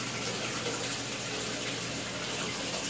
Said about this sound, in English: Filling up the water bowl.